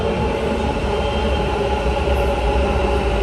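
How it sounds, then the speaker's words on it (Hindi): A Namma Metro train in Bengaluru rolls into a station at Majestic, a loud, continuous rumble of wheels and motors with a steady hum and no pauses. "ये आ रहे हैं हमारा मेट्रो"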